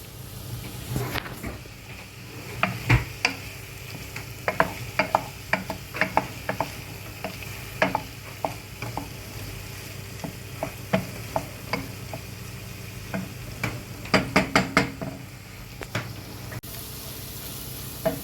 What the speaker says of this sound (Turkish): Eti kavurduk. Salçaları, soğanları koyduk. Kavuruyor arkadaşlar.